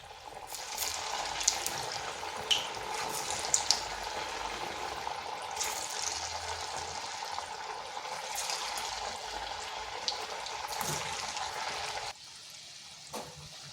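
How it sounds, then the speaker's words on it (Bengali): Semolina sweets frying in hot oil in a kadai, a steady close crackling sizzle with scattered pops and light stirring clicks, running continuously before dropping quieter near the end. "এখানে কড়াইতে তেল গরম হতে দিয়েছি, গরম হয়ে গেছে। এরপর দিয়ে দিচ্ছি।"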